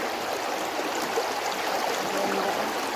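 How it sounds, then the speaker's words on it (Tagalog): Stream water flowing steadily with a soft broadband rush and faint gurgles, continuous and fairly close, with no voices over it. "Narinig ba yung ano? Tubig."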